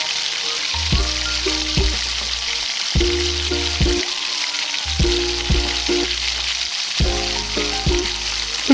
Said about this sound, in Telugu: నూనె కొంచెం మరిగిన తర్వాత దంచి పెట్టుకున్న వెల్లుల్లిపాయలు వేసుకొని అవి కలర్ చేంజ్ అయ్యేంత వరకు